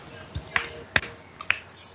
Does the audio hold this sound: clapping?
yes